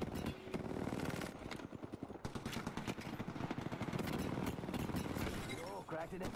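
Rapid automatic gunfire in an Apex Legends arena match, dense bursts of shots mixed with gameplay effects and heard under ongoing excited talk.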